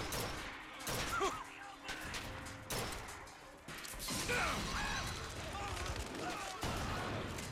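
Loud gunshots and clattering impacts ring out in sharp bursts during a BioShock Infinite firefight. Dense combat noise continues between the shots, and someone speaks in between.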